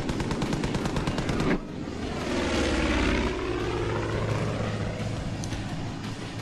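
A propeller airplane in the Far Cry 5 video game drones loudly overhead, its engine swelling and sweeping past over a steady roar, with bursts that resemble gunfire early on.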